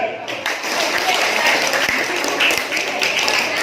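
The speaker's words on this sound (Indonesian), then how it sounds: "Tepuk tangan." An audience applauds steadily at a motivational talk, a dense wash of clapping that carries on for several seconds at moderate volume.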